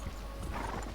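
Horse hooves clip-clopping with a whinny in the Red Dead Redemption video game, a short burst of steady hoofbeats and a neigh heard close and fairly loud, with no talking.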